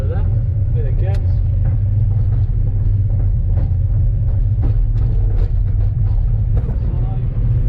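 A Mazda MX5 drifting under throttle, with a steady, loud engine rumble throughout and brief sharper bursts over it, while someone talks over the noise.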